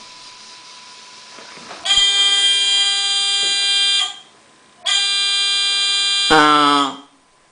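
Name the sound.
buzzer sounding on fischertechnik driving robot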